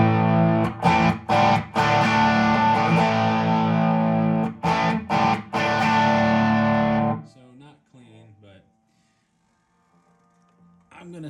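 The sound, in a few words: Les Paul electric guitar through Dr. Z amp, JHS Notaklön fuzz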